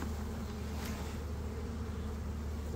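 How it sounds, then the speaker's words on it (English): Honey bees buzz in a steady, low, continuous drone, close and moderately loud, with no voices. "There's a few bees left down in here, but not many."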